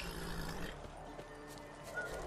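A horse whinnies briefly amid The Witcher 3 game background noise, with a few soft hoof clops; the sound is moderate and close.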